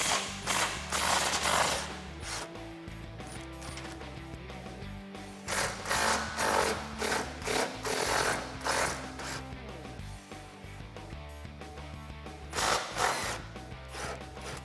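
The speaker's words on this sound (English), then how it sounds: "So you're gonna need an 18mm socket." Hand ratchet with an 18mm socket working loose the subframe bolts on a Jeep Wrangler JL, giving repeated bursts of rapid mechanical clicking and metallic ratcheting, close and fairly loud, with short pauses between strokes.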